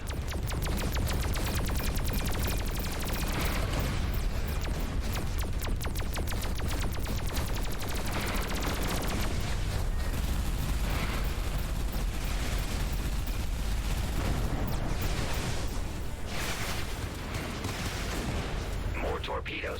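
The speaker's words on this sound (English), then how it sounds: "More torpedoes were just fired." Torpedoes and turret fire crackle in an Everspace 2 boss battle against Blakemore, a dense, relentless barrage of explosive bursts and rumbling blasts lasting throughout, with voices occasionally under the noise.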